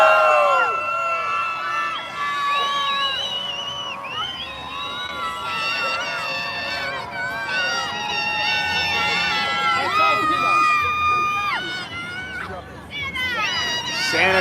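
A parade crowd along 6th Avenue in New York at the Macy's Thanksgiving Day Parade cheering Santa Claus's entrance, with loud, continuous shouting, whoops and children's screams close by, swelling and dipping in waves.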